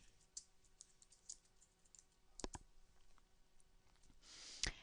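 Quiet, sparse clicks of keys tapped on a computer keyboard, a few isolated presses with small pauses between them, ending in a slightly louder burst.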